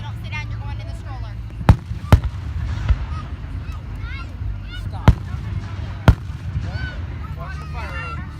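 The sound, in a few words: fireworks exploding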